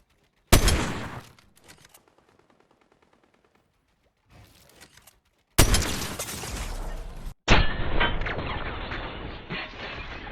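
Sniper fire and impact in a competitive shooter video game: a sharp shot burst, then a short quiet gap, a brief faint sound, and two loud sustained crashing, rumbling bursts near the end.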